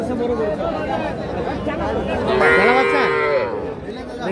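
Cattle at a crowded rural livestock market in Kaharol, with a calf among them, lowing loudly and close over constant chatter and voices from the crowd.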